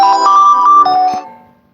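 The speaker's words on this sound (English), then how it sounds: "That was my alarm." A phone alarm goes off with a bright, melodic ringtone: a few clear electronic tones that play loud and close for about a second, then fade out quickly.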